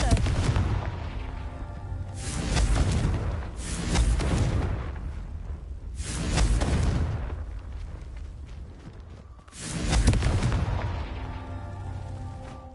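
A Confringo blasting curse cast in a video game sets off four loud explosions a couple of seconds apart, each swelling and then fading into a rumble.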